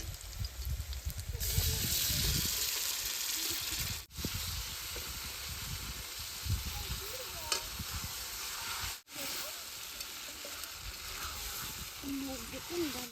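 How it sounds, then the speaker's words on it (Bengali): Country duck meat fries in a pan for a Bengali-style curry, giving a loud, steady, close sizzling hiss while a utensil stirs and scrapes through it, with a couple of brief breaks. "মাংসটা বেশ সুন্দর করে কষিয়ে নিই"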